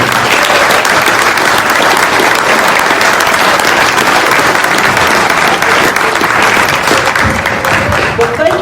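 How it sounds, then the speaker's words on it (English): Audience applause in an award presentation hall, a dense, loud and steady wash of many hands clapping throughout, with a faint murmur of crowd voices underneath. "let's give a big round of applause and an award for Maureen Morgan."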